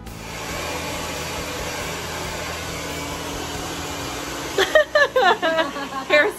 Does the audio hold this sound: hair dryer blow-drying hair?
yes